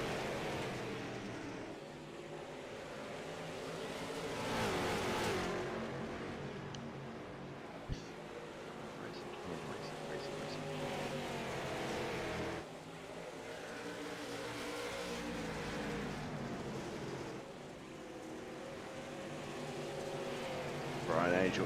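Limited late model race cars running green-flag laps in iRacing, their engines droning and swelling in pitch as they pass, under steady commentary from a race announcer.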